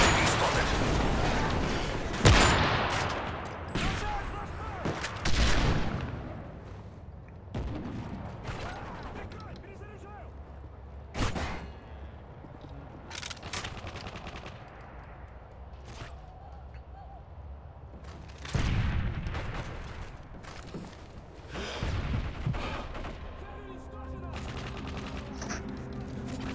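Sniper rifle shots and gunfire in the PC video game Sniper Resistance, scattered sharp cracks and bursts across the clip under someone talking throughout.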